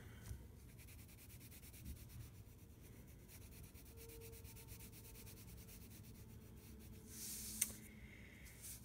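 Soft, steady scratchy rubbing of colored pencils shading and blending on paper, close and quiet, continuing in a rapid back-and-forth rhythm.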